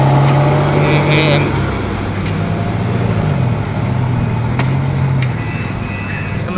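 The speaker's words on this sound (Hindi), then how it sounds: "देखो उधर से कैसे गाड़ी आ रहा है पानी में" A mining vehicle drives through water deep inside a coal mine. The engine drones loudly and steadily, with a low hum and some splashing wash, while someone talks over it.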